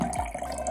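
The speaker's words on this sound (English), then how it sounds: "it's taking a long time to fill up this glass of water" Tap water running slowly into a glass, a faint steady trickle with a soft low rumble underneath, brief and unaccompanied by talk.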